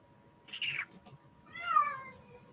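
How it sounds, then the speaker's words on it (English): A house cat gives two odd, strained meows that sound pained: a short harsh cry followed by a longer, rising-and-falling wail, close by with no talking. "Never heard him meow like that, and it sounded like he was in pain or something."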